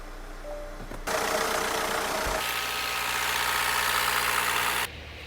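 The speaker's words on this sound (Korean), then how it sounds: "일단 마무리 짓고 시운전 한번 나가보겠습니다" A Hyundai Sonata with a dual-clutch transmission, freshly fitted with a new dual clutch and actuator, runs with a steady engine drone that starts abruptly, holds evenly for several seconds, then drops back to a quieter hum.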